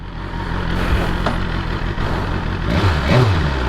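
BMW S1000RR sportbike, a 2021 model on its break-in ride with restricted engine, runs steadily with a continuous engine drone and wind rush, rising slightly in revs near the end, no talk.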